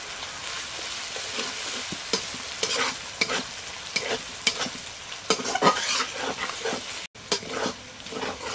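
Ginger and garlic paste fries with browned onions in a pan, making a loud, close sizzle with frequent scraping and stirring strokes, briefly cut off once near the end.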